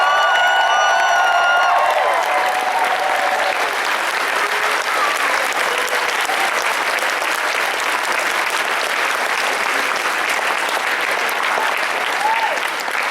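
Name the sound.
audience applause at convention closing ceremony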